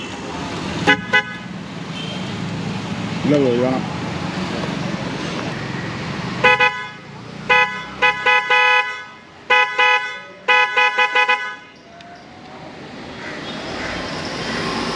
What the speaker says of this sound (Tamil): இப்போ அடுத்த ஹார்ன் எடுத்துகிட்டு வராங்க. இது எப்படி இருக்குன்னு தெரியல சவுண்டு